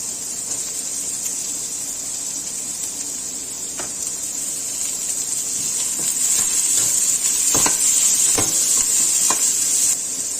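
Capsicum stir-frying for gobi manchurian, a loud steady hiss and sizzle in a hot pan with a few spatula knocks and scrapes, growing slightly louder partway through, close up.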